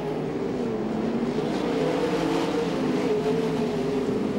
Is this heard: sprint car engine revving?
yes